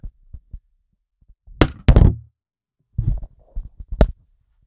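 An ALDER H44 ribbon microphone dropped onto a hard desk, giving a couple of close, loud thumping impacts followed by a few smaller knocks and rattles, with no talking.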